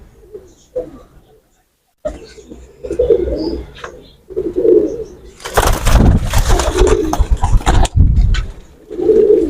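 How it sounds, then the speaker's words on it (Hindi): Pigeons coo in soft, repeated throaty bursts up close, joined midway by a loud rush of wing flapping and rustling, with several overlapping coos continuing to the end. "ये वो कबूतर हैं दोस्तों।"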